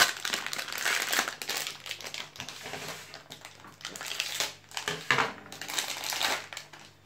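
Crinkly plastic packaging of a Poopsie Slime Surprise toy is torn and crumpled open up close, continuous rustling and crackling in waves for several seconds with no talking.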